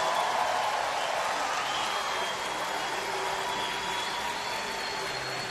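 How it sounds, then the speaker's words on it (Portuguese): A large outdoor concert crowd at a summer festival in Salvador applauds the band with a dense, steady wash of clapping and cheering, broad and sustained throughout. "Eu queria que esses aplausos de vocês se estendessem para essa banda fantástica"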